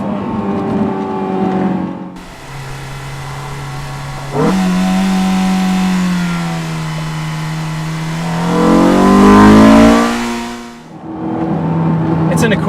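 A Honda S2000 AP1 sports car engine revs hard toward its 9,000 RPM redline, its pitch climbing and holding high before dropping away, then settling back to a rumbling idle.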